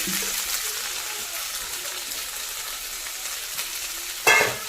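Onion and tomato fry in a pan, giving a steady broadband sizzle with stirring scrapes throughout and a louder burst near the end.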